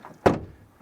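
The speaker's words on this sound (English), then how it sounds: "here the door closing sound is really bad actually" The frameless door of a BMW i4 M50 closes with a single short, solid thunk, close and fairly loud, then fades quickly.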